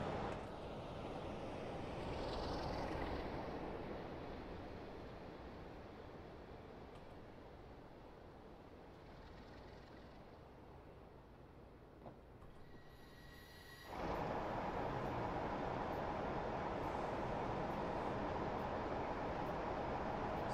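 A freight train rumbles steadily through the Standedge tunnel in a train simulator game, hauling LPG tankers on the Huddersfield line; a loud continuous roar fills the clip, easing slightly midway, then swelling abruptly louder near the end.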